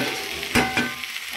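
Cauliflower florets and potatoes frying in spices in a home kitchen, a steady close sizzle with a couple of brief stirring scrapes, no talking.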